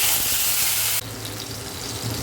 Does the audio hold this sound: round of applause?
no